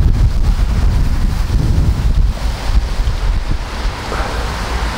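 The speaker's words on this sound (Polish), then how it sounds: "W miarę ciepło, ale wiatr jest zimny, zawiewa." Cold, gusting wind at a fishing spot roars steadily into the microphone, a continuous low rumbling buffet with surf-like swells and no talk.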